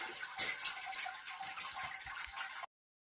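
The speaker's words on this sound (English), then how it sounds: "So while I got the carboy slowly filling up" Wort pouring into a carboy during homebrewing of a raspberry beer, a steady splashing rush of liquid that runs close and fairly loud, then cuts off abruptly.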